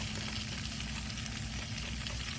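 Onions and jalapeños sizzle steadily in a pan over a campfire, a dense, even crackle of frying that holds at close range with no voices over it.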